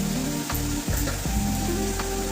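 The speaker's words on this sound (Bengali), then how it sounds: "এই যে চিচিঙ্গাটা ভাজা বসিয়েছি" Snake gourd frying in a pan, with a loud continuous close-up sizzle and crackle alongside a few faint stirring sounds and a steady low hum beneath.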